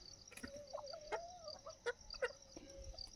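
Free-range desi chickens cluck and peck on a poultry farm, with scattered short clucks and a thin sustained call over faint outdoor background, no talk.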